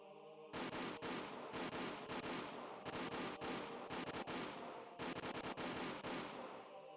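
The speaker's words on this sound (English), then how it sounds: "The sound of the gunshots echoed in the silence." Soldiers' gunfire rings out in the Higurashi: When They Cry video game: rapid bursts of loud automatic shots, repeated in clusters with short gaps between them.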